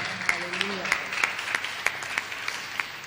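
A congregation claps in steady rhythm during a Hindi sermon, sharp unison beats arriving roughly three per second over a low crowd murmur, with a brief voice near the start.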